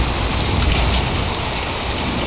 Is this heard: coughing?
no